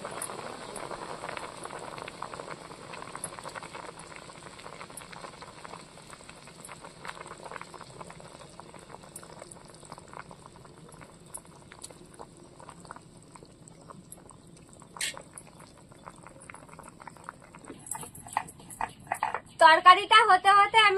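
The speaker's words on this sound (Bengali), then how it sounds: "ঝোল ফুটে উঠেছে, এবার মাছ ভাজাগুলো দিয়ে দেবো" Fish curry broth of kan magur catfish and taro simmers in a pot, soft continuous bubbling close by, growing busier toward the end with a brief clatter and a louder burst of sizzle.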